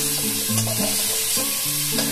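Steady sizzling of pointed gourd and potato pieces frying in hot oil, with a low hum of music running underneath and no talking.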